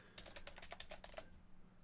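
Someone types an email address on a computer keyboard: a quick, close burst of about a dozen crisp keystrokes over roughly a second, then the typing stops and the room goes quiet.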